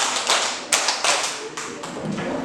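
A group of people claps during a counted drill, giving several crisp, loud claps in a loose rhythm, a few of them landing close together. No one speaks.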